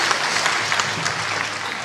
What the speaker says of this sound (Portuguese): Jesus recebe suas palmas